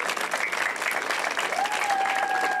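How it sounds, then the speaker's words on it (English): Steady crowd applause at a civic gathering for school district leaders in El Monte, a full wash of clapping with a faint whistle or feedback tone rising over it late on. "Let's give them a big round of applause."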